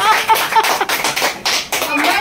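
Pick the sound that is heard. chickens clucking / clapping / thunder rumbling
clapping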